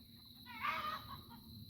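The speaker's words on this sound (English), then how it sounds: "Did you hear my chickens?" Backyard hens give a brief burst of clucking, faint and somewhat distant, rising for about half a second and then fading into quiet background noise.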